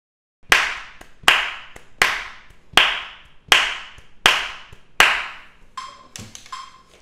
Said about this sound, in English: we will start clapping the rhythm so you know exactly what the sound that you are looking for